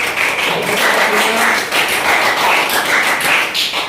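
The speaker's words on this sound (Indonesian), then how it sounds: "beri aplaus dulu kelompok 1" A class claps for group 1 in a school lesson, a steady crowd of hands patting at moderate loudness through the whole stretch with no talk over it.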